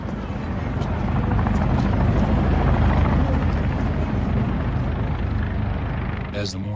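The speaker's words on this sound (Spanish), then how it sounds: "la evacuación con helicópteros marchaba bastante bien" Helicopters roar continuously during a hurried wartime evacuation. The loud rotor thump and engine drone fill the whole stretch and hold steady throughout.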